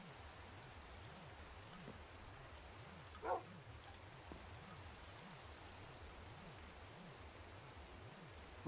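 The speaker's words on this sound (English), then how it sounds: "It's raining outside." Rain falls in the Minecraft video game as a steady, soft, even hiss that runs unbroken throughout, with one brief muffled knock near the middle.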